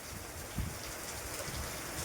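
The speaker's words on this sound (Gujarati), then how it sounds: "વરસાદ ચાલુ થઈ ગયો હળવો હળવો હળવો હળવો" Soft, continuous patter of light rain falling outdoors, an even wash of droplets with no voices.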